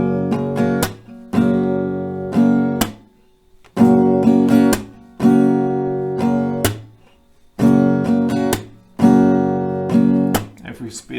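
Acoustic guitar plays a strumming pattern in repeated bursts of strums, each ending in a sharp clap-like hit and a brief pause, loud, close and with no talk.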